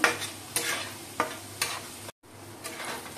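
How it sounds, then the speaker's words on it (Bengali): Spices with salt and turmeric are stirred in a pan for a poppy-seed dish, making rhythmic close scrapes roughly every half second over a soft, steady sizzle, with no talking. "এবার একটু নেড়ে নেবো বেশ খানিকক্ষণ"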